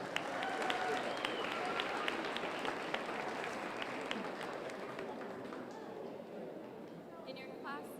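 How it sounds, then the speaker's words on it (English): An audience applauds the young exhibitors at a youth fair market hog show in a show ring, the brisk, crowded clapping gradually thinning and fading out toward the end. "Give those kids a round of applause."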